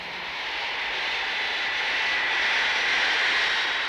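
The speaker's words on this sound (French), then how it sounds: "Une douzaine d'avions américains de type Hercule C-141 acheminent le contingent de 1500 fantassins et gendarmes marocains" Military transport aircraft, American Hercules-type planes at Lubumbashi airport, produce a steady engine roar that swells slightly louder over a few seconds, with no voices.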